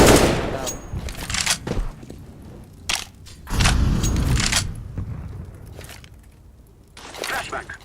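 A flashbang grenade goes off in a shooter video game amid bursts of gunfire, several sharp blasts and cracks spread across the span, with voices talking in between.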